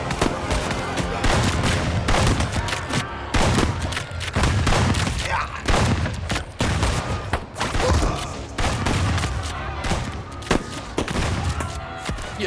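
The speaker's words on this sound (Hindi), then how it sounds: "मेजर ने इशारा किया और गोलियां बरस पड़ी" Soldiers open fire on a village in a dramatised scene: dense bursts of rapid gunfire and heavy shots rattle almost continuously, loud and close, with brief gaps between volleys.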